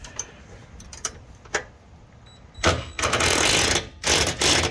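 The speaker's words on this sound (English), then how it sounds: "our impact wrench, and we're going to tighten down that one bolt here." An impact wrench drives a bolt home while installing a heavy-duty ladder rack step, firing in loud, rapid hammering bursts after a few faint clicks, with short pauses between the bursts.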